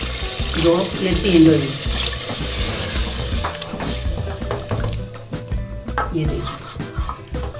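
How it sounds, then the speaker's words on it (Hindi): Half a cup of water poured into sizzling mutton korma karahi gives a rushing splash and bubbling hiss that gradually settles, while someone speaks over it. "ये 1/2 प्याली पानी डालूंगी,"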